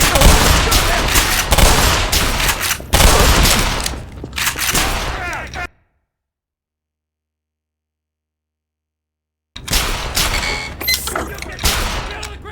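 Gunfire at a target on a hazard training course: loud, close bursts of rapid shots under shouted commands, breaking off into a few seconds of total silence before resuming.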